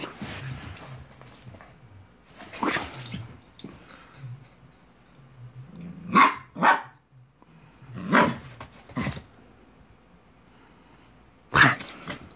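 A husky barks in short, sharp bursts, some doubled, spread over several seconds with pauses between, close and fairly loud, with a low growl mixed in.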